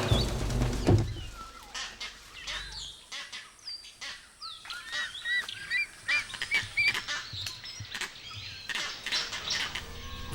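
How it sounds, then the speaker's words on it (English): Vervet monkeys give their eagle alarm call, a scatter of sharp, high, honking chirps and squeals repeated irregularly over ten seconds against a low rumbling start, moderately distant amid ambient outdoor noise. "That's the vervet alarm call for eagle."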